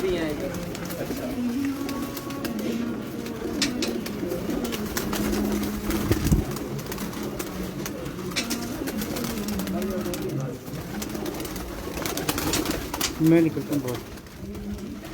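Small pigeons kept by a breeder coo in soft, repeated low calls close by, mixed with ongoing conversation and background bustle.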